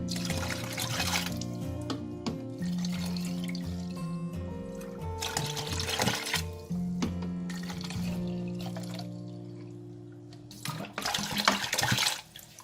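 Water pours and trickles steadily into a cooking pot holding fish entrails for a southern Thai curry, a continuous splashing gush with brief pauses and a louder burst near the end.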